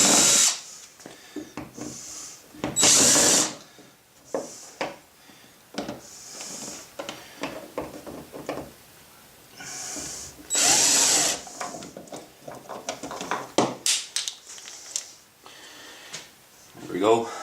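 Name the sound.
removing screws from Lowrance kayak mount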